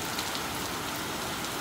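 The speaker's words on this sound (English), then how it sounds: "It's raining hard." Heavy rain pours down continuously as hurricane weather approaches, a dense, steady hiss of drops striking surfaces close by with no voices.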